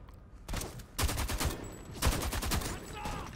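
Gunfire in the video game Homefront: The Revolution, a long-reloading weapon firing several loud, close bursts in uneven clusters, with a voice faintly underneath.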